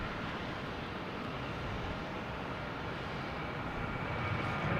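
Southwest Airlines Boeing 737-800 heading to Nashville at Boston Logan Airport: a continuous broadband jet engine roar, fairly distant and steady, rising slightly toward the end.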